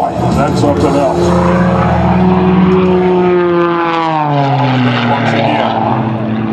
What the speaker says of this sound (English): Can you believe that tumbling, that airplane end over end like that?